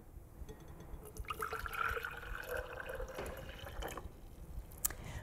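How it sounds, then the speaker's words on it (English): Hot water trickles slowly into a glass jar, making a soft, steady stream with faint drips and a gently rising fill tone. It is close but quiet against background hiss. "I'm going to start by slowly filling this jar a quarter of the way with hot water."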